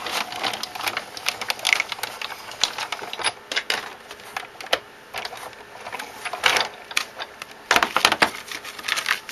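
Big Shot embossing machine cranking an embossing folder through its rollers, a rapid irregular series of close clicks and ratcheting clacks.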